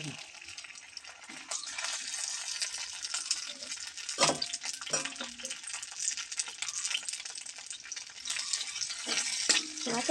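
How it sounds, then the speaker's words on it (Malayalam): Okra fries in coconut oil, sizzling and crackling steadily in a hot pan, with people talking intermittently over the frying. "വെണ്ടക്ക വറുക്കാൻ വെളിച്ചെണ്ണ വയ്ക്കുന്നു"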